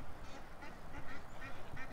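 Ducks and geese at a pond give repeated nasal quacks and honks in an irregular run, close and moderately loud, with no one talking over them.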